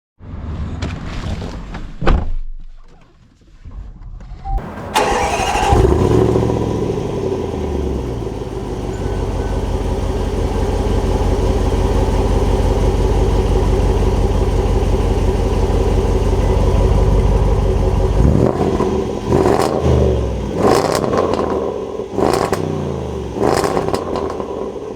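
Range Rover Sport SVR engine starting after a brief pause, then settling into a loud, steady idle close by, followed by several sharp revs near the end.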